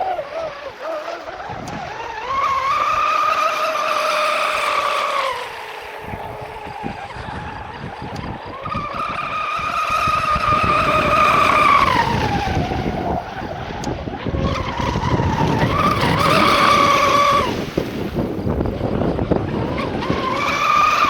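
A Traxxas M41 radio-controlled boat runs at speed, its high-pitched electric whine sweeping up and down in repeated surges as it passes, loud and close with water spray and wind noise, no talking.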